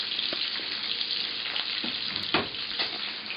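Garlic fries in very hot oil in a pan, a dense crackling sizzle with a few soft pops and stirring knocks, brief and near, without speech.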